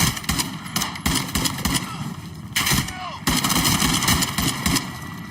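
Video game gunfire from Call of Duty Modern Warfare 2 rattles in dense automatic bursts and sharp shots, loud and continuous, with a voice briefly speaking over the combat.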